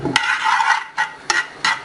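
Cumin and Kashmiri red chili frying in ghee for nihari give a close, loud sizzle, broken by several quick stirring scrapes in a steady rhythm.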